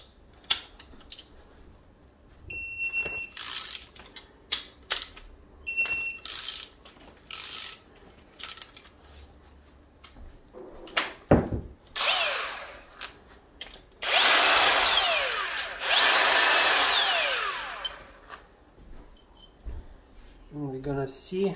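Power tool unscrewing a fastener on a BMW E46 during a rebuild and manual swap, with clicking and ratcheting bursts followed by long, loud whirring runs, close up; speech is heard in places.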